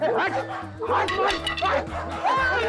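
Village dogs bark and yip in short bursts as they chase, mixed in with loud, overlapping shouting voices and a dramatic music score.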